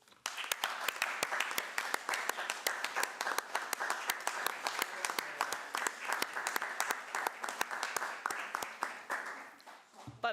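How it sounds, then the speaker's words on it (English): Dense, steady applause from a seated audience at a Burnside Council meeting, many hands clapping continuously for about ten seconds before tapering off abruptly at the end. "I would really like us to give her a round of applause"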